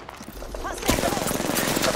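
Incoming gunfire in Apex Legends during a ranked match, a burst of rapid automatic shots starting abruptly after a quiet moment and continuing densely at moderate loudness.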